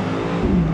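BMW XM pulling away hard on launch control, a brief engine note rising sharply in pitch as the car accelerates, loud and close.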